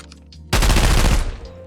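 Full-auto gunfire with 855 ammo in Contractors ExfilZone: a loud, rapid burst of shots lasting under a second after a brief quiet lead-in, close and dense, with a short tail.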